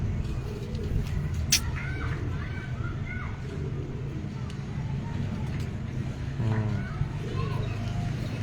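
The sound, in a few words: young pigeon cooing on rooftop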